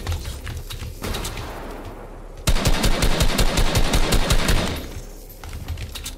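Rapid automatic gunfire in Fortnite, loud and close, a dense rattling burst lasting about two seconds, with lighter scattered shots before and fainter shots trailing after.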